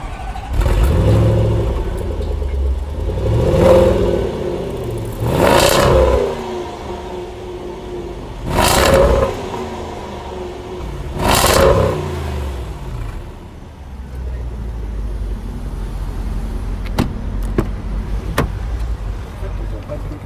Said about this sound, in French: Attends, je vais te faire tourner le moteur.